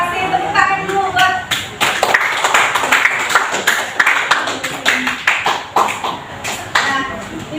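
Classroom applause for a student expert group after their presentation: several seconds of scattered, uneven clapping from a room of students, with talk mixed in.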